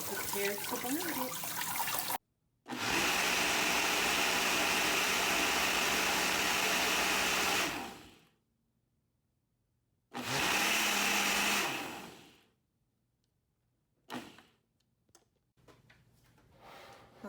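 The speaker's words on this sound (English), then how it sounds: "And then I'm gonna prepare to blend it." A loud blender blending sea moss whirs in two long bursts separated by a pause, its motor roaring steadily, then a few short clicks and knocks afterward.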